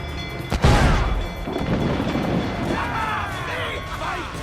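A deep booming blast of ship's cannon fire in Assassin's Creed Black Flag erupts, followed by rumbling, crackling echoes and clatter over a continuous background.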